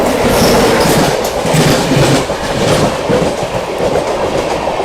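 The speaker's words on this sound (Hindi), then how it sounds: "सामने से आती हुई 12559 बनारस नई दिल्ली शिव गंगा एक्सप्रेस आती हुई दोस्तों पूरी रफ्तार में" The 12559 Banaras–New Delhi Shiv Ganga Express rushes past at full speed, a loud close roar with rapid clickety-clack of wheels over rail joints throughout.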